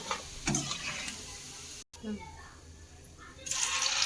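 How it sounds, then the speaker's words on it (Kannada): Baby corn frying in a pan for baby corn manchurian, a steady sizzle and stir noise that runs throughout, cut by a brief gap, with short voice-like sounds and a brighter crackle toward the end. "ಎಲ್ಲವನ್ನು ಹಿಂಗೆ ಫ್ರೈ ಮಾಡ್ಕೊಳ್ಳೋಣ ಫ್ರೆಂಡ್."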